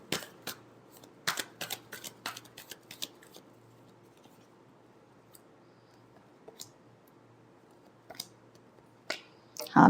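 Tarot cards are shuffled by hand in a quiet room, a quick series of crisp riffling snaps and taps in bursts, with a steady low hum underneath and a louder knock at the end.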